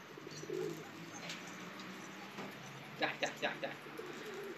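Pigeons at a pigeon loft coo softly in low, rounded phrases, with a quick burst of four brighter calls near the end, while people talk nearby and a steady background hum runs throughout.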